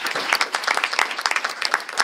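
Steady audience applause at a school sports awards gathering, many hands clapping in a dense, continuous patter that holds for the full stretch with no voices over it.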